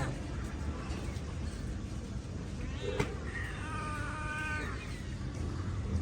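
A cat, one of two sitting with a person, lets out a single drawn-out meow at close range over steady low background noise.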